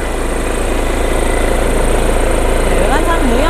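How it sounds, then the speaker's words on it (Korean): A Volkswagen CC 2.0 TDI BlueMotion diesel idles with the engine bay open, giving a loud, steady drone that stays even throughout, with a faint whine rising near the end. "엔진 소리 역시도 매우 일정합니다"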